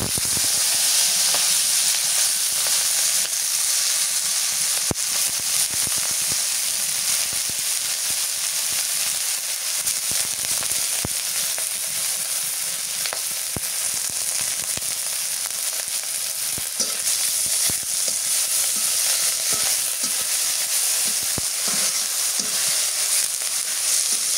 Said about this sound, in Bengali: মাছটা তেলের মধ্যে ভেজে নেই।